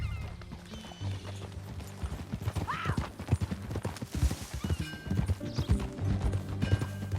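Steady clip-clop of horse hooves in the video game Red Dead Redemption 2, with a brief whinny partway through, over a low ambient hum.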